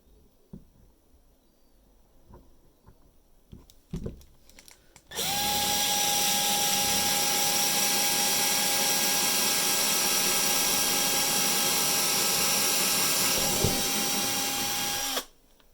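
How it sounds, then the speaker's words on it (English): A few knocks and handling sounds, then a power drill runs loudly and steadily for about ten seconds, its whine holding constant before cutting off abruptly. "I'll take my drill and just drill down."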